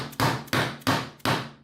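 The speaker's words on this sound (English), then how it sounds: "And then I'm going to take my dead blow hammer." A dead blow hammer strikes PVC pipe connectors, pushing the plastic fittings together in four sharp, loud, evenly spaced knocks, each decaying quickly, with no talking.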